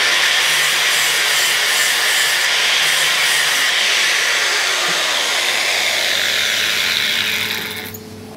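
A power tool cuts a part off a Suzuki GS custom motorcycle project, producing a loud, continuous, close-up grinding hiss that holds steady for several seconds before cutting out at the end.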